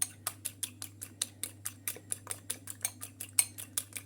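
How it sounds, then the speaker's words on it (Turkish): Steady rhythmic clinking of a fork whisking an egg, honey and lemon face mask mixture in a bowl, quick even strokes repeating about five times a second, close and unbroken. "iyice karıştırıyorum"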